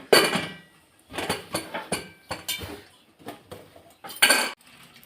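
A lid goes onto a pot of rice boiling in salted water, with several close metallic clanks and rattles in separate bursts and quiet gaps between them, with no talking.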